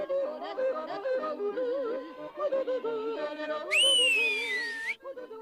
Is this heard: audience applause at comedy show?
no